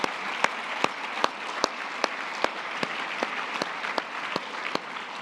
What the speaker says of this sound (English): How about a round of applause for our incredible MC